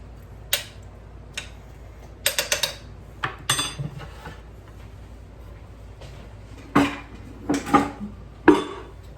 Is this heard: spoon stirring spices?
yes